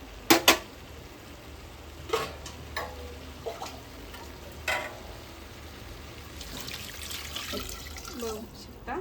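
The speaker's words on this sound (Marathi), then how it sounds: "आणि ह्यात जे आहे थोडंसं पाणी टाकून घेऊयात आपण." Water poured into a cooking pot of browned chicken for biryani-style khichdi, a soft trickling splash amid clinks of a utensil and faint kitchen ticks, with a short stretch of speech over it.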